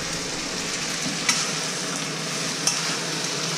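Tom yum shrimp spaghetti sizzles steadily in a pan while being stir-fried, a constant hiss broken by two brief sharp clinks of a utensil.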